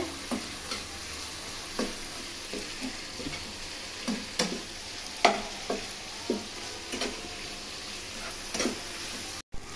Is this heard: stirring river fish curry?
yes